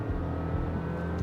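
A 1.5-litre turbo petrol engine with a CVT in a compact SUV revs hard at full throttle, a steady strained drone with dense low rumble, continuous and close throughout.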